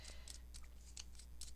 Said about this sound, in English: just can take your scissors and just rough it up again